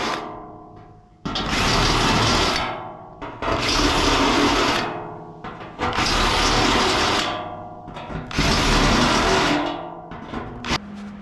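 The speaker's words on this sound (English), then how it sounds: "Now I just want to hit it with a step bit just to give it a little room." Step drill bit widening pre-drilled quarter-inch holes in a car floor pan during a weld-in repair, heard as four sustained, loud grinding bursts of roughly two seconds each, separated by short pauses.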